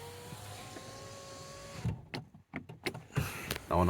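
Skoda Roomster electric window motor raising the glass, a close, steady whine lasting about two seconds that stops and gives way to clicks and handling noises inside the car.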